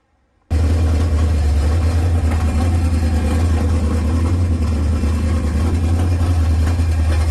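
A big block Chevy V8 mounted in a car, after a session of tuning and timing work, catches at about half a second and settles into a loud, steady, deep idle rumble that runs unbroken to the end.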